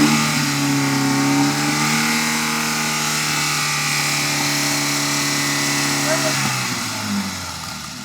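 An MG car's engine revs hard and holds high during a trackside noise test at a Castle Combe track day, a loud sustained mid-pitched drone that drops off and settles toward the end.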